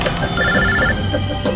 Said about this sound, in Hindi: बॉस का फोन है